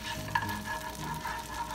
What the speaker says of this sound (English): And now we're gonna heat some butter.